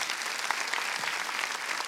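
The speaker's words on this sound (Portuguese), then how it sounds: "Vamos louvar Jesus com as nossas palmas" Dense, steady applause from a church congregation, a continuous wash of many hands clapping together at even loudness through the short stretch with no voices standing out.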